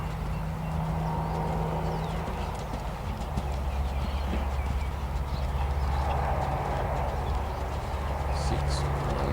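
Horse hooves in a dressage zigzag canter, a steady rhythmic clip-clop on an arena surface over continuous background noise, with a commentator speaking throughout.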